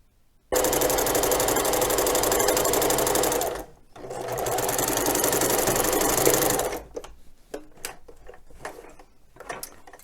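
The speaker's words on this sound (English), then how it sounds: "As I stitch carefully all the way around." A sewing machine stitches around the cuff of a fabric basket in two loud, continuous runs of rapid whirring, each about three seconds long with a brief pause between, followed by quieter clicks and handling noises.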